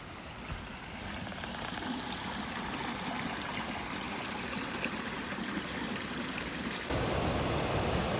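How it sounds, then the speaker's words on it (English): River rapids rush through a forested gorge at Icicle Gorge near Leavenworth, Washington, a continuous broadband roar of flowing water, steady throughout and growing louder near the end. "it's definitely a river and not a creek. It's so beautiful. That's incredible. Lots of rapids."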